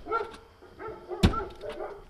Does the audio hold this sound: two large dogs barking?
yes